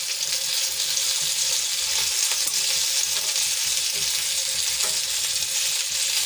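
Stuffed green chillies fry in a pan of oil with a steady, bright sizzle, close up and unbroken, with faint stirring clicks as they are turned over.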